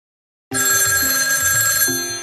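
A telephone bell rings loud and close, one sustained metallic trill that starts suddenly and holds to the end.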